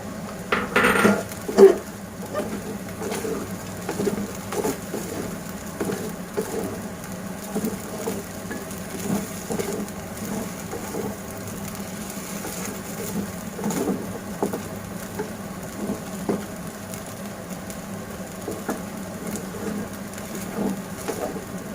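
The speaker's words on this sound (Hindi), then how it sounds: "अब इसमें मैं पीनट मिक्स करूंगी।" A spoon scrapes and taps in a pan as peanuts are stirred into sabudana pulao, light pattering clatter repeating steadily, close and moderately loud.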